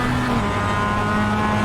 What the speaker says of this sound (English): we over-revved a little bit on the gear change